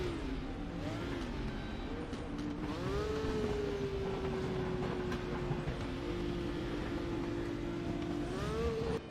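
Red Bull Corvette Z06 R racing car in a video game race, its engine droning steadily at high revs with a rising pitch sweep as it accelerates, shifts and holds speed, close and continuous.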